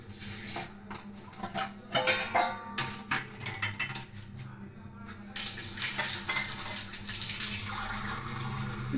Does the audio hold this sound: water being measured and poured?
yes